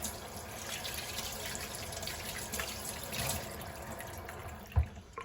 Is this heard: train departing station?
no